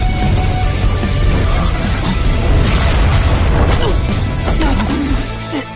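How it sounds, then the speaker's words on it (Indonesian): A loud, sustained animated explosion of crashing, booming noise fills the whole clip, dense and continuous, tapering slightly at the end. "adu kekuatan mereka berdua menimbulkan ledakan yang keras"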